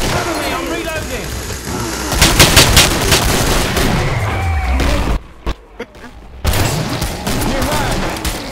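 Rapid gunfire from a video game with lever action rifles crackles in dense bursts over a busy, noisy soundscape, with a short near-silent pause before the shooting and clutter resume.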